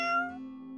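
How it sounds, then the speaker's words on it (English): A meow voiced at a lucky cat statue in a video game: one drawn-out, tonal, clearly pitched call that starts brighter and then holds a steady, fading tone, heard alone with no talk. "If you meow at a lucky cat statue, happiness will come your way."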